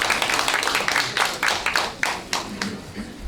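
Audience applause at a Suwon mayor's first-anniversary briefing: a steady patter of many hands clapping at moderate loudness, with scattered louder individual claps and no speech over it.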